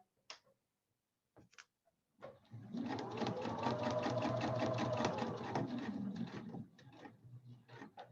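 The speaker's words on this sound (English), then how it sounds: "This way I know I'm sewing a straight line." A sewing machine stitches a throw pillow in one continuous run of quick, even mechanical ticking, close and clear, after a few faint clicks and handling sounds.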